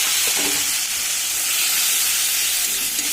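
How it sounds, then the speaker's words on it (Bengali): Ginger, cumin, dry red chilli and a little poppy seed fry in hot oil, giving a continuous, loud, close sizzling hiss with faint stirring scrapes underneath. "এবার দিয়ে দেবো মশলা। এর মধ্যে আছে আদা, জিরে, শুকনো লঙ্কা আর অল্প পরিমাণ পোস্ত"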